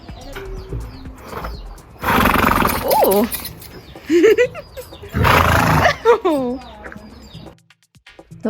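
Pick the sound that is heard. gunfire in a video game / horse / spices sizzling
horse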